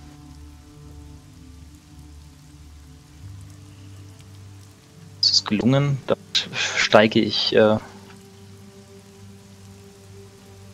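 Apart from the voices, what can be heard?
rain sound effect in tabletop role-playing session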